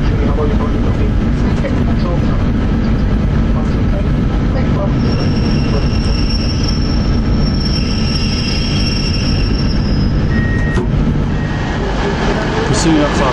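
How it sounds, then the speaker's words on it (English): Class 142 Pacer railbus, built by BREL in Derby in the mid-1980s, rumbling loudly along the rails from on board with steady wheel and engine noise and a thin high squeal of wheels over the later half. "This is a Class 142 Pacer bus, built by BREL in Derby in the mid-80s."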